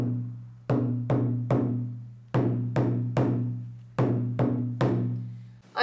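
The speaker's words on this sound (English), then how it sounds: "And the junjun is sort of the largest bass drum that we have." A junjun, the large West African bass drum, plays a basic rhythm of sharp, resonant booming strikes in short groups of two and three, each ringing out with a low decaying tone, close and alone.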